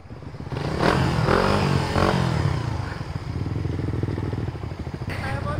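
A motorcycle engine with an NK Fullstand ECU revs loudly and close by, rising and falling, with clattering mechanical noise underneath.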